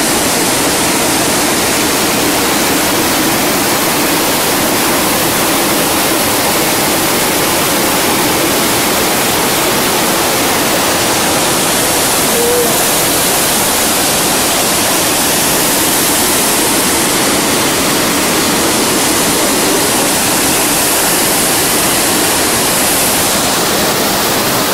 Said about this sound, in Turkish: burada ise Güden Şelalesi'nden akan sular Akdeniz'e doğru ilerliyor